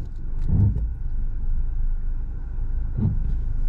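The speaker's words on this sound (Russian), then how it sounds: "Как будто бы с оборотом колеса происходит этот хоп." Knocking from a Mercedes wheel while the steering is turned: two low thuds, about 2.5 seconds apart, come through a steady rumble of the car rolling along, with no talk.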